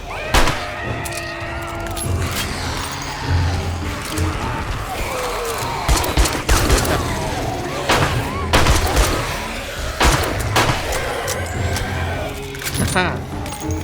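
Gunfire in the video game 7 Days to Die, a series of sharp loud shots spread irregularly through the scene, mixed with clattering effects and people talking over the action.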